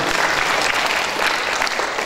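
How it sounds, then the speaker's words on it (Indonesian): An audience applauds in a church during a traditional Batak wedding, a steady, dense wash of clapping that holds at an even level throughout. "Tepuk tangan."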